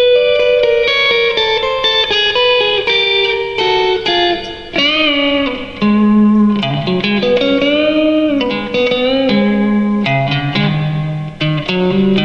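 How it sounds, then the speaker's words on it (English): An electric guitar played through a Fender Vibro Champ XD amp with the reverb turned all the way up, sustained chords and bent notes ringing out with a deep, hall-like wash, loud and alone. "if you turn the reverb all the way up, it's got some pretty deep reverb to it"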